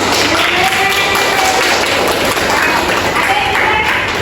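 Loud, dense clapping from an audience at a lecturer certification session, a continuous wash of many hands that stays steady and close throughout.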